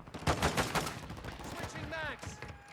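Gunfire in Warzone 2 sounds off in several sharp, close bursts of rapid shots early on, thinning out afterward, with a rising whine toward the end and a voice speaking briefly over it.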